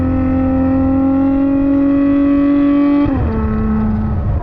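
A Ferrari F12 TDF drives on the road, its V12 engine holding a steady loud drone, then dropping in pitch as it shifts or lifts off near the end.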